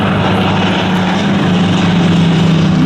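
Spitfire fighter aircraft with Merlin engines fly past at the Flying Legends air show, a loud, close, sustained propeller-engine roar that holds steady throughout with no talk.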